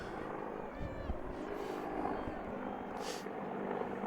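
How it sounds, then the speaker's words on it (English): A faint, distant rotor drone hums beneath a noisy outdoor crowd, with a few brief hisses and clatters breaking through. "we've got a military flyover with some helicopters"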